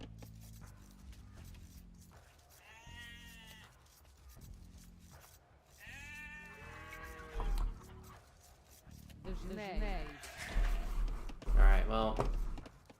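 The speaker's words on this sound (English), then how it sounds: "This guy was gonna steal my fucking sheep." Sheep bleat in the medieval strategy game Age of Empires II, a few wavering harmonic calls rising over busy in-game battle and ambient sounds, with someone talking at times.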